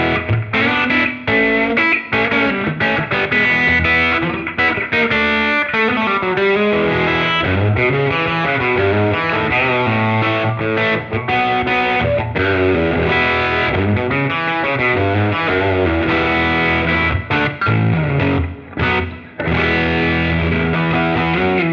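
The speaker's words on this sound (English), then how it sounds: "So let's try a decent amount of gain with the humbucker." An electric guitar through a humbucker pickup with a fair amount of gain distortion plays a continuous, thick, saturated riff that stays loud and dense throughout with no talking.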